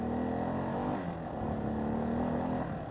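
A Kawasaki Bayou 400 4x4 ATV engine runs at full throttle with the choke on, a close, steady buzzing drone whose pitch wavers slightly as it holds the revs.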